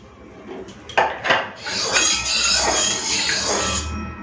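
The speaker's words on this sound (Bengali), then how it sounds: "কড়াই গরম হয়ে গেছে দিয়ে দিচ্ছি সরষের তেল" Mustard oil goes into a hot wok for an egg curry, with a metallic clank of the pan and a rising, steady sizzle and hiss that fills the space close by.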